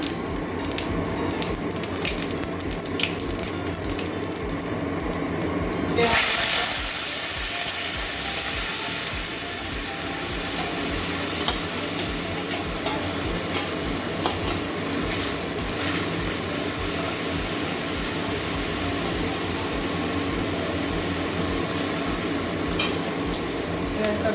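Two cinnamon pieces, three cardamom pods and a little cumin hit hot oil in a pan for a soybean, carrot, potato and pointed-gourd curry, giving a continuous close hiss and sizzle that shifts and thickens partway through.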